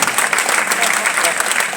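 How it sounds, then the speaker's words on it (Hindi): A poetry gathering audience at a large kavi sammelan claps loudly and densely, a short burst of hall applause with a voice faintly underneath. "एक बार जोरदार तालियां बजाइए"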